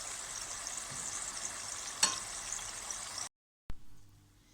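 Yeast-free pişi dough sizzles and crackles steadily in hot oil, with a light tap partway through, then a sudden cut and a soft knock.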